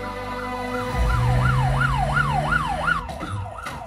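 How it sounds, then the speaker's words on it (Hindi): An ambulance siren in a Bollywood movie scene wails in a rising and falling cycle over a low rumble, loud and near, with no talk over it. "ये तो पुलिस का सायरन है।"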